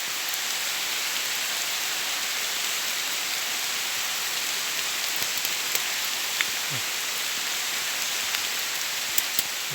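Steady rain falling, a dense even hiss with occasional louder drops tapping nearby, continuous throughout with no voices.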